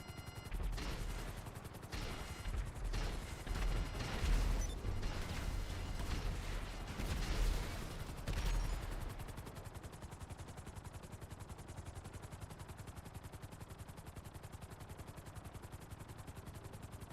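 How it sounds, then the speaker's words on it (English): Heavy gunfire from a heist in the video game GTA 5 comes in dense, rapid bursts of automatic shots and blasts for about eight seconds. It then drops to a quieter mechanical rumble. "Then we start shooting."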